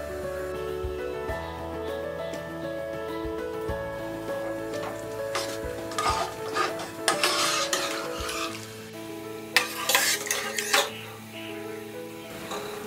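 A spoon scrapes and stirs rajma masala with green coriander in a pressure cooker, with soft sizzling and scattered clinks of metal against the pan.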